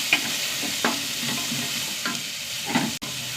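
Sliced onion and green chillies sauté in a pan with a steady close sizzle, broken by a few scraping stirs of a spoon and a sharp knock near the end.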